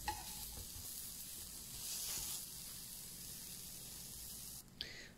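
Eggplant slices fry gently in a thin layer of oil for an aubergine tajine, giving a steady soft sizzle with a brief louder crackle as a slice is turned over near the end.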